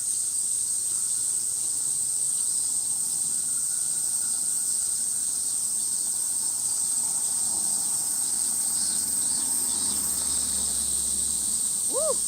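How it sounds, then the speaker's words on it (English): Cicadas in a Tokyo park drone in a loud, continuous high-pitched buzz that never lets up, with faint background bustle and a couple of brief tonal chirps near the end. "Cicadas are loud over here."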